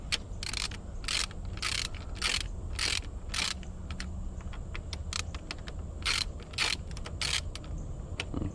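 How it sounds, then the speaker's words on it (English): Ratchet clicking as 6mm Allen bolts are loosened from the handlebar clamp of a 2022 Honda Rebel 300, a brisk, close series of bursts in irregular rhythm over a low workshop hum, with no talking. "now we're going to remove these 6mm Allen keyed bolts here"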